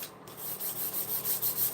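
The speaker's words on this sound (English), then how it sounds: "Sorry, I'm sanding." Rhythmic sanding strokes rub back and forth against wood, about six even passes, close and moderately loud, no talking.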